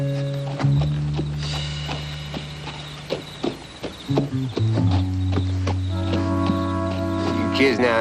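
Horses in a video game clip-clop on hard ground with rhythmic hooves and mechanical clatter, set against sustained musical tones.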